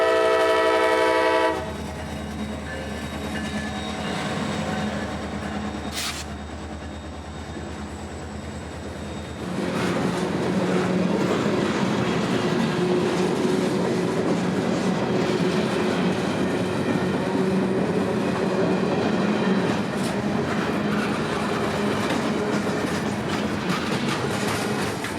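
A CSX freight train on the Tampa District line passes close by at East Washington Street, opening with a horn blast before a steady loud rumble and clickety-clack of rolling cars fills the rest.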